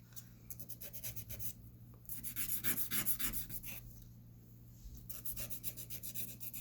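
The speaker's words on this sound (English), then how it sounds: "You don't want to sand them to a point, but you definitely want to get the edges off so they're not sharp." Sandpaper rubbed against the cut ends of handmade jewelry ear wires, a soft, quiet scratchy rasp in quick repeated strokes, close up and continuing steadily throughout with no talking.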